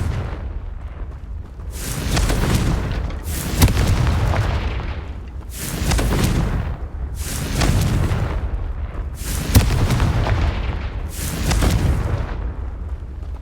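Confringo fire-spell blasts in Hogwarts Legacy, about six rumbling booms rolling out one after another at roughly two-second intervals, each swelling and fading with a crackling tail.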